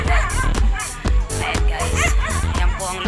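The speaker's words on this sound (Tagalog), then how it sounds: "Ingay ng aso." Dogs yip and bark in quick, overlapping bursts amid busy background noise, with some talking mixed in.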